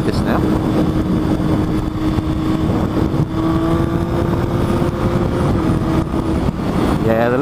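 Triumph Street Triple motorcycle on the move along a back lane, its engine droning steadily close to the rider with a sustained whine and wind rush, pitch rising near the end as it revs up through a quickshift.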